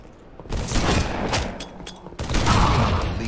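Gunfire and a grenade blast from Halo gameplay, with sharp bursts and a booming explosion layered in a busy, loud mix.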